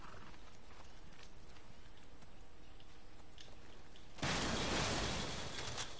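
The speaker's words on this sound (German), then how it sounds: "was für ein Pferd!" Horse hooves clip-clop in the video game Far Cry 6, a faint rapid trotting patter in a quiet scene, followed near the end by a sudden loud burst of broadband noise.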